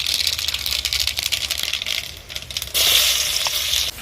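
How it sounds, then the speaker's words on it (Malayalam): Mustard seeds crackle and pop in hot oil for sambar, a dense, continuous spatter that grows louder and fizzier toward the end. "കടുകിട്ട് പൊട്ടി"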